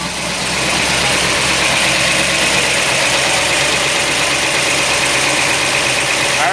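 Chevrolet COPO Camaro drag racing engine with clutch fan, heavy-duty cooling and a big alternator pulley, running loud and steady with a rough, throbbing idle rumble throughout.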